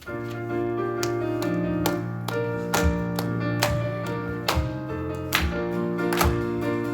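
A church congregation claps along to a praise song, sharp rhythmic claps landing on the beat over sustained keyboard or organ chords and singing, moderately loud and steady throughout.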